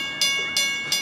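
A heritage park train on a looped track at Fort Edmonton Park, with three evenly spaced bright clacks in one second, close and loud, like wheels crossing rail joints over a steady mechanical hum.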